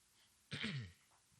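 A single close throat clearing from a man, a short rough burst of about half a second in an otherwise quiet room, with no talking around it.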